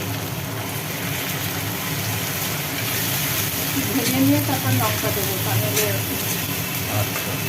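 Spices sauté in a pan for a pointed gourd curry, a steady close sizzle and hiss with occasional stirring scrapes, while a voice talks over it.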